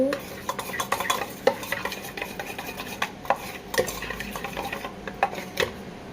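Homemade slime being mixed with activator in a container, irregular close scraping and clicking taps of a utensil against the bowl with soft sticky squelches, fairly quiet and without talk.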